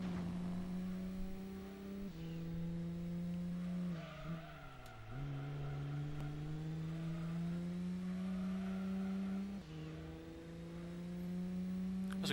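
Racing cars in a video game accelerate through gear changes with rising engine drone and squealing tires, heard loud and continuous without speech.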